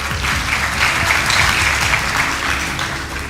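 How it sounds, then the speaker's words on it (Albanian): An audience at the Zhurma Video Music Awards 2015 bursts into sustained applause, a loud, even wash of clapping from a large crowd that fills the whole stretch. "uftoj një duartrokitje më të madhe"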